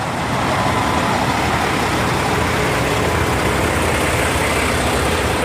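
Trucks idle at a busy Indiana truck stop, a dense, continuous diesel engine rumble holding steady and loud throughout with no voices.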